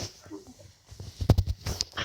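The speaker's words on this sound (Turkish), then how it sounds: "ikimizin de videosunda havlama falan filan ses gelebilir" A dog whimpers and gives short barks in the background of a room, with faint noises before a cluster of sharper yelps near the end.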